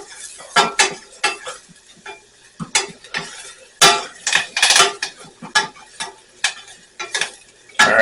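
Chopped shallots and Italian flat-leaf parsley stirred in a pan: close, irregular scraping and clattering strokes of a utensil in bursts over a light sizzle.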